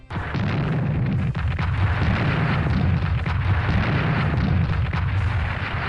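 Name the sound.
artillery fire explosions in Strategic Command WWII video game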